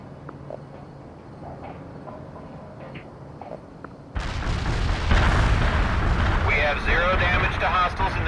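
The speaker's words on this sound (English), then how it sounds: "This is Zulu Niner. Coordinates locked down. Shells on the way." Artillery shells explode in the video game World in Conflict. A quiet stretch with faint distant thuds gives way to a sudden loud, sustained roar of blasts and rumbling that continues to the end.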